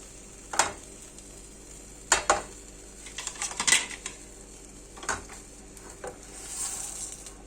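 A serving plate being picked up and set down beside a pan of egg-topped simit, heard as a few sharp clinks and knocks of crockery against metal, spaced apart over a soft background sizzle.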